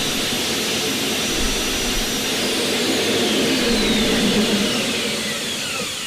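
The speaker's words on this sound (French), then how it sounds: "On arrête l'aspirateur." A vacuum cleaner runs with a loud, steady, close whooshing roar that holds constant without a break.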